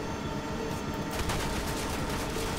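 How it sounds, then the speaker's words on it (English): Dense, continuous gunfire in the zombie shooter Left 4 Dead 2, rapid automatic bursts filling the whole stretch at a steady, loud level with no speech. "What are you shooting at?"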